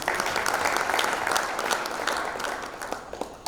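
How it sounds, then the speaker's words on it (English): An audience at an international arbitration and ADR conference in Kenya applauds steadily, a dense wash of clapping that holds for several seconds and slowly tapers, with no talking over it. "I think you deserve a round of applause for that."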